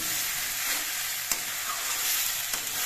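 Steady hot-oil sizzle from a frying pan, with a couple of sharp clinks as red amaranth greens and small puti fish are stirred and turned.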